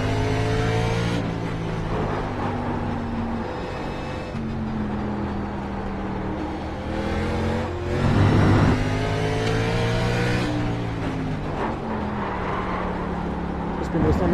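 NASCAR race car engines at Sonoma in the iRacing sim, a steady droning roar with rising and falling pitch as cars rev and shift, one swelling louder near the middle, while someone talks throughout.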